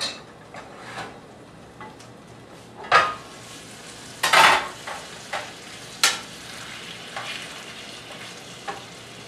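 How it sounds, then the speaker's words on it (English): A spoon stirs risotto in a pot after a cup of stock is added, with a low simmering sizzle throughout and scattered scraping knocks, one louder clatter near the middle, and no speech. "we're going to cover it with another cup of stock. Stir that around."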